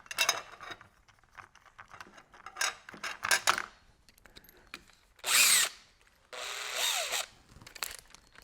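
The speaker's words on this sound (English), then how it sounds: "So I'm going to drill out those holes we've done" A power drill bores out plastic-filled holes in a kayak hull while a Bixpy gudgeon is fitted. Quiet clicks and handling noises come first, then two loud, close drilling bursts, one short and one longer.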